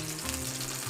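Oil spattering and sizzling steadily around lemon frying in a pan for a vegan oyster mushroom piccata, a continuous close, even crackle with no talk.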